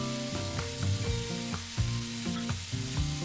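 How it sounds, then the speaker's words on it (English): Half an inch of cinnamon stick frying in a pan with seeds for Goan sausage fried rice, a close steady sizzle with regular stirring scrapes. "Add ½ inch cinnamon stick and fry this for about a minute."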